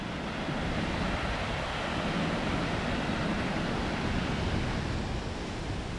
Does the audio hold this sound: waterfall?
yes